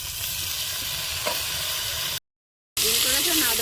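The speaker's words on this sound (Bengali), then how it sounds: "এবার বিন কড়াইতে দিয়ে দেবো" Beans going into a hot kadai with potatoes already fried with cumin, green chilli and salt give off a steady, dense sizzle. It cuts out briefly to silence, then returns louder and hissier.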